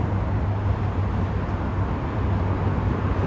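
Subway train rumbling across the Manhattan Bridge in New York City, a steady, loud low roar with a persistent hum that carries on unbroken and close.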